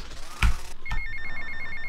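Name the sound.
phone ringing in the video game GTA: Vice City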